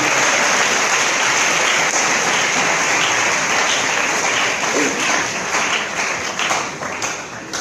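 Sustained, dense applause from a university audience honoring the day's speaker after his talk on leadership and good governance, loud and even throughout, easing slightly toward the end.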